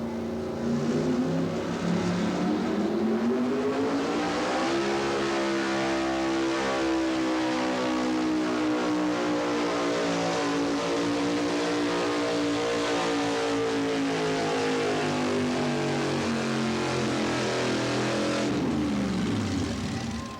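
Late-1980s Chevrolet and Ford drag race cars running the strip, a loud sustained engine roar with a rising pitch sweep as they pull away, close and continuous without talk.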